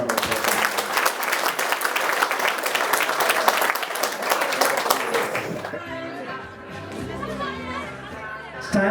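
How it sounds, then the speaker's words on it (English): Big round of applause from a crowd at a school class reunion function, dense sustained clapping for several seconds, then cutting off into chatter and voices. "Give them a big round of applause"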